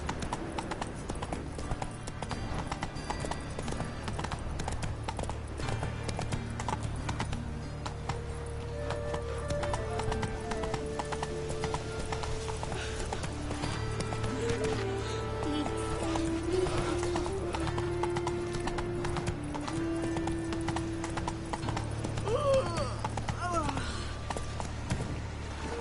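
Roach, the horse in The Witcher 3, gallops with a steady, rapid clip-clop of hooves that runs throughout, with an occasional whinny, game music and a voice talking over the hoofbeats.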